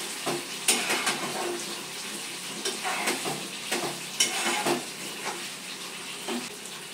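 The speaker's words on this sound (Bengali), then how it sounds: "এটাকে ভালো করে মিশিয়ে নেব।" Cauliflower curry sprinkled with kasuri methi stirred in a hot pan, a steady close sizzle with repeated scraping strokes of a spoon at an uneven rhythm, no talking.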